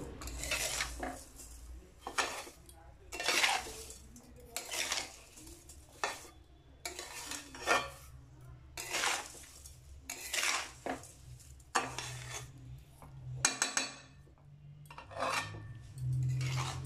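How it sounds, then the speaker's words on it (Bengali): Chopped ash gourd is tossed with sugar in a dry wok, a spatula scraping and clattering in a quiet, steady rhythm of repeated strokes with a soft sizzle beneath. "চিনিটা চাল কুমড়োর সাথে খুব ভালোভাবে মাখামাখি করে নেব"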